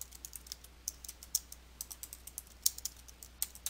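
Keys tapped on a computer keyboard while entering text in Photoshop Elements 2021, a quiet irregular run of light clicks at varied spacing with no voices.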